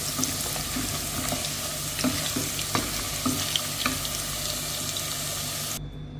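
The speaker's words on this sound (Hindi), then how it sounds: "हमने 2 आलू मीडियम चॉप कर लिए हैं इस तरह से, ये देखें, और इसे हम फ्राई कर लेते हैं" Medium-chopped potato pieces frying in oil, a dense continuous sizzle with scattered pops and crackles, close and loud, ending abruptly with no talking.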